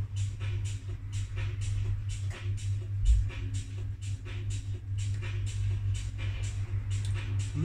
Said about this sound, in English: that's my boiler kicking in. It's a bit noisy